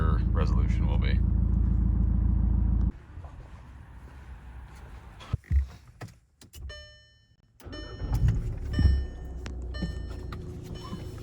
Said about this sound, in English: I can't believe how quiet that is after they welded that tail muffler straight through